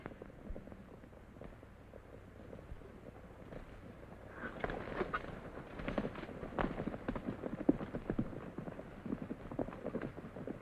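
Horses' hooves clatter in a quick, irregular clip-clop as they are lifted over a fence, starting soft and growing louder and busier partway through, with no talk.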